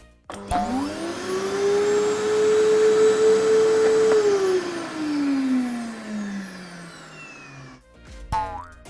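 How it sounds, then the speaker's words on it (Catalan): A vacuum cleaner whines loudly and steadily up close, its motor pitch holding then sagging as it winds down, followed by a brief click. "Ara sentirem una aspiradora."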